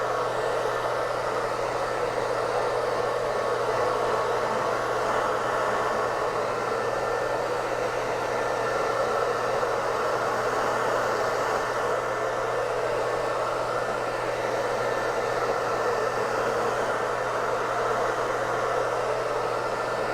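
A hair dryer blows steadily at close range, a constant loud whooshing hum with an electric whine that never changes.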